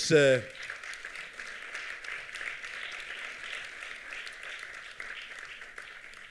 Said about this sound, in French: Vous voudrez bien applaudir Claudia Mahler, Georges-Paul Angevin, Marie Beaulieu et Cyan Jones.